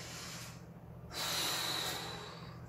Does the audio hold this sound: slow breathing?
yes